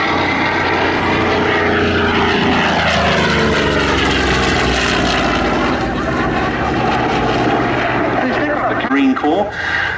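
A Goodyear-built Fleet Air Arm propeller warbird from 1945, in 1850 Squadron colours, flies at the Duxford air show, its engine droning loud and near with shifting pitch while an announcer talks throughout.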